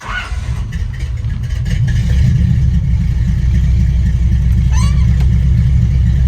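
A 1969 Chevy C10 pickup's V8 fires up and settles into a loud, steady rumble, with a brief higher whine partway through; the engine runs continuously close by with no speech.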